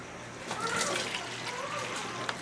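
Water pouring into a pan while making lasagna, a soft continuous splashing trickle with faint people talking underneath.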